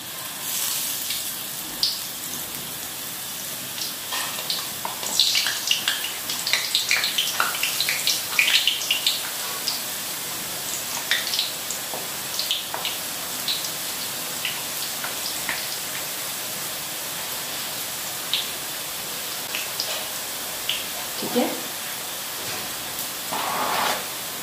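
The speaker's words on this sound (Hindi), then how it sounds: "और अब हम इसको फ्राई करेंगे।" Motichoor ladoo batter dropped into hot oil hisses and sizzles continuously at close range, a dense crackling fry with scattered sharper pops and bursts, no speech.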